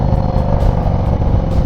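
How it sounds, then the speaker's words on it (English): Harley-Davidson Road Glide running through Tab Performance mufflers fitted with zombie baffles, giving a steady, loud, deep exhaust rumble with dense low-end throb that holds even throughout. "mufflers on there, zombie baffles"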